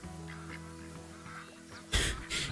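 Ducks quacking in the hunting video game Call of the Wild, a few harsh quacks bursting out near the end after a low droning background, fairly close and loud.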